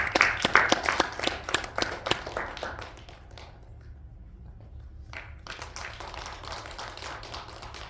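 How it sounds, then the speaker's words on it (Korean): Clapping from a lecture audience greeting a speaker, dense and loud in the first three seconds, then fading to a few scattered claps and room noise. "우리 박수로 모시겠습니다."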